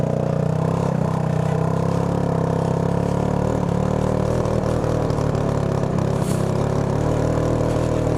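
A wrecked go-kart engine, running for the first time in five years, sputters and strains under throttle, a steady close-up drone with uneven, choppy bursts as it fails to climb into high revs.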